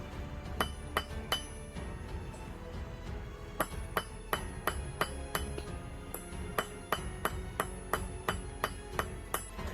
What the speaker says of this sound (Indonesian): Biar dipalu gitu.